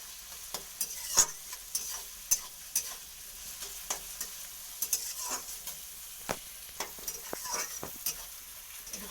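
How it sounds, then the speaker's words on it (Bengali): Onion and garlic fry in a pan for mutton curry, a soft steady sizzle broken by frequent sharp clicks and scrapes of a spoon stirring against the metal, close and fairly quiet, with no voices. "এটা যেমন ভাজা হয়ে যাচ্ছে এরকম ভাজা করবো ঠিক লাল লাল করে ভাজা হয়ে যাচ্ছে"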